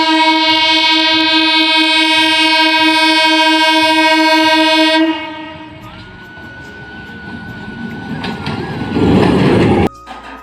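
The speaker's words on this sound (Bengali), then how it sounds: "ট্রেন ঢুকছে।" A loud, sustained train horn blares for several seconds, then gives way to the rumbling, clattering approach of a train arriving at a station, with a thin metallic squeal.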